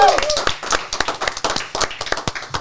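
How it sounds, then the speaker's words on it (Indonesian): Clapping in a studio, a small number of hands producing distinct, fairly close individual claps in an uneven rhythm, with a brief tonal sound at the start. "Berikan tepuk tangan sekali lagi untuk Gi Junior."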